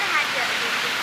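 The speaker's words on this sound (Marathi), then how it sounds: "पाऊस आला मोठा" Heavy rain pours down as a dense, even hiss, loud and steady through a brief moment.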